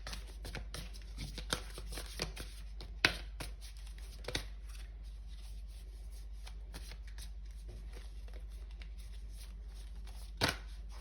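Tarot cards are shuffled throughout, a steady soft riffling with several sharper snaps and flicks standing out, close and fairly quiet with no talking.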